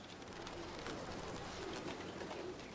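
Soft cooing of racing pigeons at a rooftop pigeon loft in Kowloon Walled City, Hong Kong, blends into a steady, dense background hum, the low calls repeating faintly throughout.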